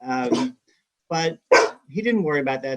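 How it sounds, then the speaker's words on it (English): A dog barks in the background during a panel discussion on the Democratic primaries, with short barks mixed in under and between a man's speech. "Sorry about the dog in the background."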